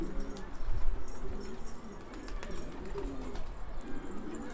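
Several pigeons, including a yellow kişbir-type bird, coo in low, rolling murmurs inside a pigeon loft, with steady repeated calls close by and faint shuffling and wing noise mixed in.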